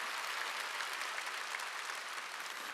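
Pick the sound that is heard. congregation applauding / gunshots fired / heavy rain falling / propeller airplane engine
congregation applauding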